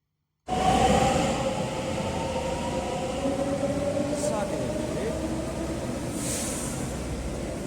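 A Delhi Metro train rumbles loudly and steadily from close by, a constant roar with faint squeals rising over it.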